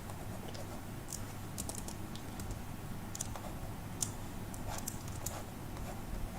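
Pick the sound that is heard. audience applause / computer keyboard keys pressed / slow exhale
computer keyboard keys pressed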